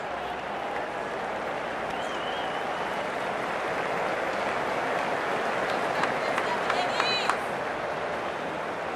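A stadium crowd in the cricket video game Cricket 24 applauds and roars after a six is hit into the stands, a steady wash of clapping and cheering with a few whistles, heard under a commentator's voice.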